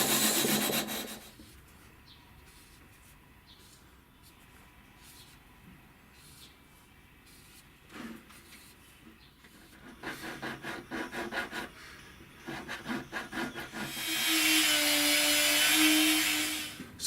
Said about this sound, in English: I'm using hand support and what the inventor of this device calls X sanding, which gives the best fret coverage.